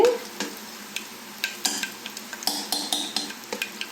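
Asafoetida dropped into hot oil in a pan while making a Telugu-style dal, giving a thin steady sizzle broken by a series of light clinks and taps from a utensil, close and fairly quiet, with no talking.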